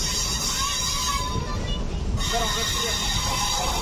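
The DEMU passenger train 07483 from Secunderabad pulls into Siddipet station with a continuous, moderately faint rolling rumble, while voices murmur in the background.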